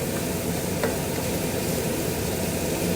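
Onion and garlic sizzle steadily in a pan, a close, continuous crackling hiss with no pauses and no voices.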